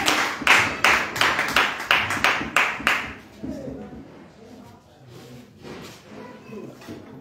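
A church congregation claps together in praise of the Lord at a worship service, about ten loud, even, rhythmic claps over three seconds, followed by softer scattered clapping and murmuring voices.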